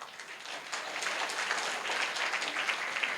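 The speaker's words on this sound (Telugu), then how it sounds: "చప్పట్లు కొట్టుకోండి." A church congregation claps together at a church consecration service, a dense, steady burst of applause lasting a few seconds with no talking over it.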